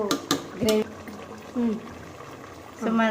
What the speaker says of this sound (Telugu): మనం చికెన్లో కొంచెం వాటర్ యాడ్ చేసేసుకుందాము